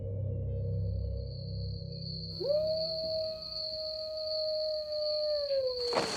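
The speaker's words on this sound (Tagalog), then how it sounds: "nandyan ulit yung mga alulong" A long, eerie creature howl for an aswang horror story rises at about two and a half seconds and holds steadily, with a high whistling tone above it and a low rumbling bed earlier on, ending in a sharp burst.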